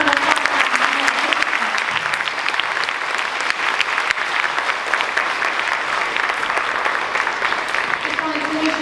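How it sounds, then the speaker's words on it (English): Audience applause at an elementary school spring concert, a dense steady clapping from a crowd that holds for about nine seconds with scattered voices and cheers mixed in. "A big round of applause."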